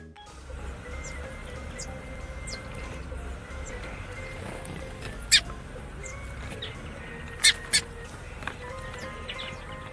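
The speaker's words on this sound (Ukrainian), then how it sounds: "Горобець. Г. Горобець." A sparrow chirps in short thin tweets scattered over a steady background hum, with a few brighter calls standing out, moderately loud.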